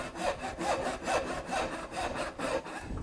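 A hand saw cuts dovetails in a wooden board clamped upright in a vertical vise, steady back-and-forth rasping strokes about twice a second, close and clear with no talking.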